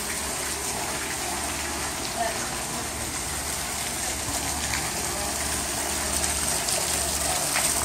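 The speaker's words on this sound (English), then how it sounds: "Kind of a cool water feature." A backyard water feature runs steadily, a constant rushing splash of falling water at an even level with no pauses, heard from nearby outdoors.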